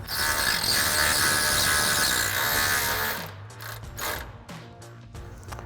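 A 3/8-inch impact gun runs an 8mm bolt in while a cold air intake goes onto a 1996-2004 Mustang: a loud, steady mechanical whir and rattle for about three seconds, then it stops and quieter clicks and handling noises follow.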